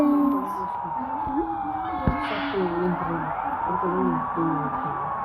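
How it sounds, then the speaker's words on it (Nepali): An ambulance siren wails on a winding hill road, a rising and falling electronic tone over a vehicle's steady engine hum, fairly close and continuous throughout. "यो एम्बुलेन्सलाई चाहिँ अगाडि नै जानु दिँदैछु"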